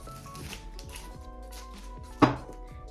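A kitchen knife slicing an onion in half on a board for guacamole, one crisp, close chop standing out above light handling noises and faint background sound.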